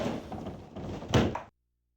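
A drawer slides open and shuts in a Sega Saturn video game, a short scraping rumble followed by a thunk, then abrupt silence.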